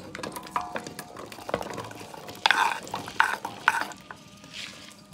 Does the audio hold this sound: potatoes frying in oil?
yes